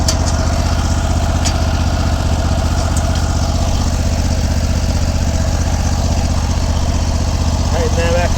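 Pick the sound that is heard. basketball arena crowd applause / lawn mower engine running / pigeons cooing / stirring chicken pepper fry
lawn mower engine running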